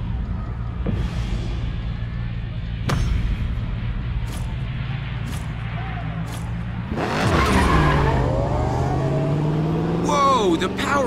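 A powerful race car in Need for Speed Payback roars steadily, then its tires break into loud, drawn-out screeching skids near the end.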